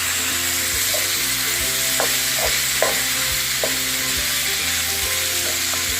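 Peppers frying in a skillet with added sauce, a steady loud sizzle running throughout with a few utensil scrapes and stirs, no one talking.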